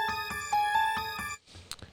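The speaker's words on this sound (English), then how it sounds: "You will hear me play the spoiler sound." Short podcast spoiler sound effect: a bright chiming melodic jingle of rapid repeated tones, followed by a brief softer noisy tail, heard alone.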